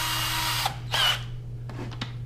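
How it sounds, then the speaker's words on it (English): A power drill whirs in short close bursts while drilling a hole, one longer spin followed by a few quick brief pulses, with a low hum underneath. "And drill a hole."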